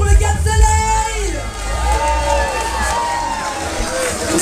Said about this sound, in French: Applaudissements pour le Cap Soleil